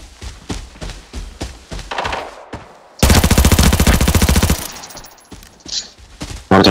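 Gunfire in the shooter game Arena Breakout: scattered single shots, then a long sustained burst of rapid automatic fire, loud and close, followed by more spaced shots and a final burst.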